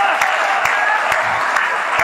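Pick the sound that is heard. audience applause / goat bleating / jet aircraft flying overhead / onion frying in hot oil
audience applause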